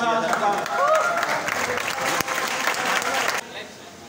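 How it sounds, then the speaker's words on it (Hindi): Loud applause from an audience at a farewell party as guests are introduced, dense clapping and crowd noise with some voices, cutting down sharply near the end. "जोरदार तालियों साथ"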